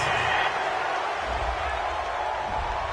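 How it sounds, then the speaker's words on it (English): A steady home crowd roars in a Madden NFL 20 football video game after a pass interference call, a continuous loud stadium wash with low rumbling swells throughout. "This home crowd, they're happy with that call."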